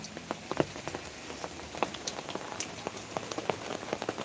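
Rain falls steadily outdoors, soft and fairly faint, with a constant patter broken by scattered sharper drops hitting nearby surfaces. No voices are heard.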